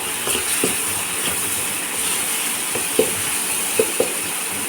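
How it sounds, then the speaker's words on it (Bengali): Chili paneer with sauce sizzles steadily in a hot pan, while a spoon scrapes and taps the pan a few times, giving sharp clicks near the end. "সস অ্যাড করে দিয়ে ভালো করে আমি এটাকে নাড়াচাড়া করে নিয়ে"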